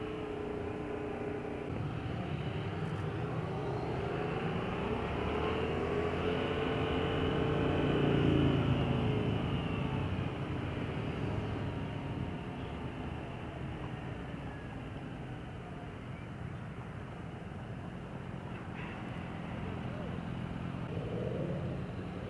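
A 2015 Yamaha FZ-07 (MT-07) motorcycle engine under throttle while riding, a steady loud drone with rising and falling pitch, mixed with heavy wind rush throughout.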